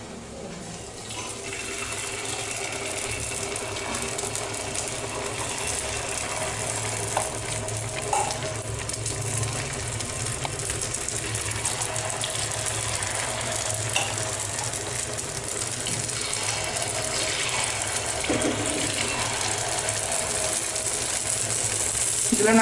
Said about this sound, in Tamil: இப்போ நம்ம வந்து பனியார் ஊற்றிக்கலாம்.